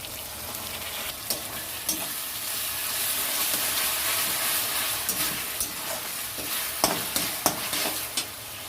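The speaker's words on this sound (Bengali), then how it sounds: "তারপর আদা রসুনটা একটু ভাজা ভাজা হয়ে গেছে, এবার দিয়ে দেবো" Onion, ginger and garlic fry with chilli sauce and soy sauce in a pan, giving a steady loud sizzle with occasional stirring scrapes and no talking.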